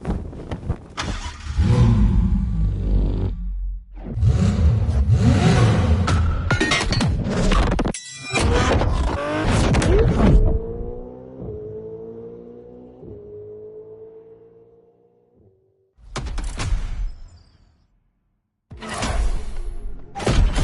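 Ferrari supercar engine in The Crew Motorfest video game, loud revving bursts separated by abrupt cuts, with a sustained high-pitched gear whine that winds down, followed by short sharp revs.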